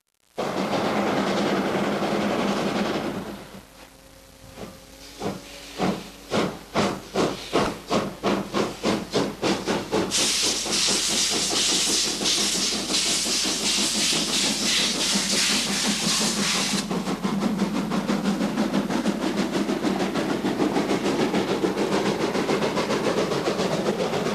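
A steam locomotive, a Polish State Railways TY2 class war engine, hisses loudly and steadily on a summer 1991 scheduled run, with a burst of rhythmic chuffing partway through, then a long harsh blast of steam before the hiss settles again.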